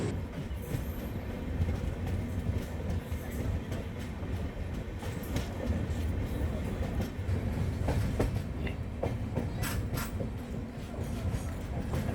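Inside a 2AC sleeper coach of the Mumbai Howrah Mail via Nagpur, the train rumbles steadily along with a low roar and scattered rhythmic clacks of wheels over rail joints, close and continuous, no talk.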